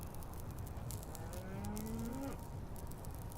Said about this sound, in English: Oh, it's a cow. He mooed.